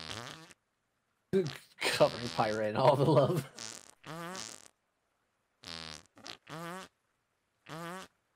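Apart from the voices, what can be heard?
fart sound effect of the heart fart item in a video game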